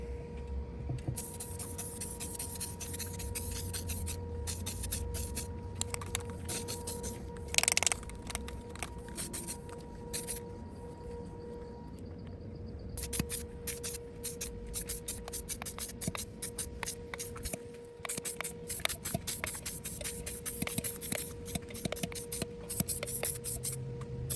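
Spray paint can laying down light coats during a craft booth build, a quiet hissing spray in short and longer bursts with clicks and pauses between passes, close by with no talking.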